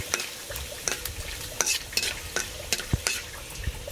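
Garlic sizzles in hot oil with panch phoron spices while being stirred in a pan, a steady frying hiss broken by repeated scraping and clinking strokes of a spoon against the pan, close and moderately loud.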